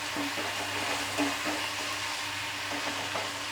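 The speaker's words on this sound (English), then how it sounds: "let the tomatoes cook nicely" Tomatoes cook in a pan for tomato rice with a continuous close sizzle and faint bubbling, plus soft irregular stirring scrapes.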